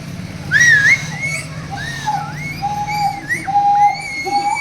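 Someone blows a whistle in sliding, wavering notes, close and fairly loud, over a low buzzing drone.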